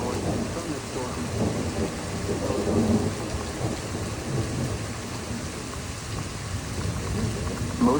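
A loud thunderstorm with heavy rain in Troy, Illinois: a steady wash of rainfall under rolling low rumbles of thunder that swell and fade, close and continuous, with no talking.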